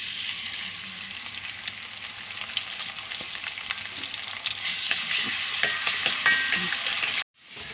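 Garlic, shallots and curry leaves sizzle and crackle steadily in hot oil in a pan, with stirring scrapes throughout, the frying growing a little louder before a brief cut near the end.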